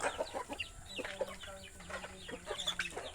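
Backyard chickens clucking as they are called to feed, a busy cluster of soft clucks and squawks close by, with a few brief voices in the background.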